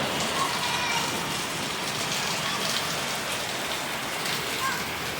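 Steady rain pours onto surfaces outdoors, a dense, even hiss that stays loud and constant throughout.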